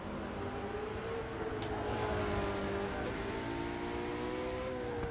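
GT3 race cars in a racing video game, among them a McLaren, drone and rev continuously, with several engine notes overlapping and shifting pitch as the cars accelerate, and no voices over them.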